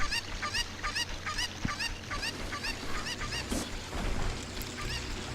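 A cuckoo, the chicken from Zelda: Ocarina of Time, gives a fast run of repeated squawking, clucking calls in an even rhythm, loud and close, with no voices.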